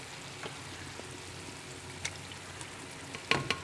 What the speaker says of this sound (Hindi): दही के साथ थोड़ा सा हम भून लेते हैं